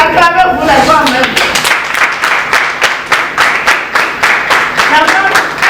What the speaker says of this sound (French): Acclamez-vous les femmes même.